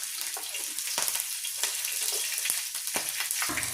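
Red chilies and garlic in hot oil give a steady bright sizzle, with sharp spits and pops breaking through now and then, close by and without talk.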